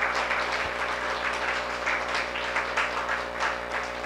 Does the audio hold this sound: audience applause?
yes